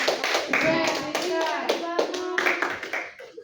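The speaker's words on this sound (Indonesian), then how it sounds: "tepuk tangan buat Rizka" A classroom of students claps for a classmate during a math lesson, a brief scattered burst of clapping mixed with children's voices and some talk, fading toward the end.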